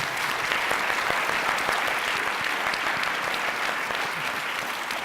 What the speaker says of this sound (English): let's have a round of applause for John King